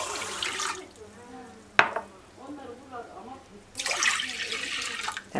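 Water and corn or rice starch are poured into a cooking pot for Turkish delight, with splashing bursts at the start and again near the end and quieter clinks and sloshing between them.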